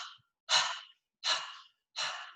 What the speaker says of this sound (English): So we're going to do breath of fire.